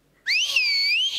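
A person on a Marathi comedy show stage whistles loudly, one rising note that holds steady for about a second, heard alone.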